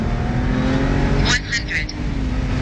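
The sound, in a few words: BMW 135 flat-out launch with 8HP45 transmission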